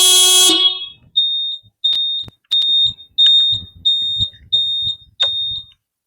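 A Hero Splendor motorcycle horn honks in a series of about eight short, sharp electric beeps at an even rhythm, loud and close, after a brief burst of noise at the start.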